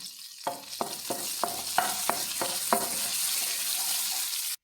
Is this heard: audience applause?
no